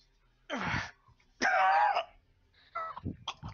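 Three harsh coughing bursts with throat-clearing, the middle one drawn out and strained, separated by short quiet gaps.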